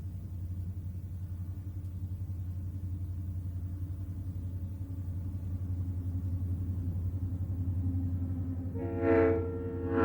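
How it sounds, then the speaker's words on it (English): An eastbound Santa Fe freight train rumbles past the former Fort Sumner station, a steady low drone of engines and wagons, with a brief horn-like tonal burst near the end. "an eastbound freight whips by the former station of Fort Sumner"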